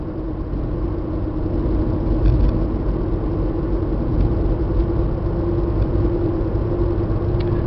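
An Isuzu Trooper V6 4x4 SUV cruising at 55 mph gives a steady, fairly loud interior drone with low engine rumble and road noise throughout.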